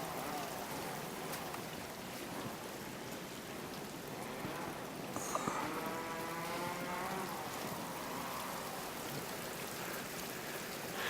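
Water rushing behind a frozen waterfall, a steady broadband wash like heavy rain or a stream, continuous and fairly close throughout, with a brief brighter splash or crackle midway.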